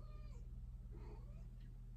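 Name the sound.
kitten meowing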